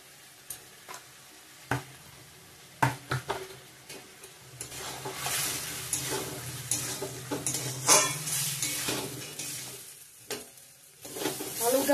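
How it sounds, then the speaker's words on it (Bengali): Potatoes sautéing in a pan with ground coriander, cumin and chili powder, a steady close sizzle broken by repeated sharp clanks and scrapes of a spoon stirring against the metal. "আলুটা ভালো করে কষানো হয়ে গেছে মশলার সঙ্গে"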